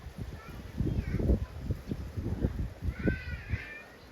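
A male cat meows faintly a couple of times, drawn-out cries rising over close, ongoing talk and rustling.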